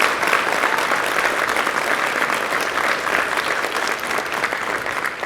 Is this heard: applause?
yes